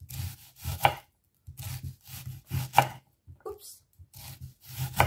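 A knife chops onions on a cutting board in steady, close, crisp strokes, grouped in short rhythmic bursts with brief pauses between them.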